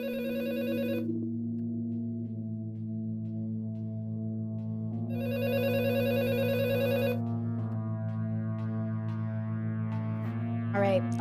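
A telephone rings in a repeating electronic pattern, two bright bursts separated by a pause over a steady low tone. It sounds like part of a song or a music track.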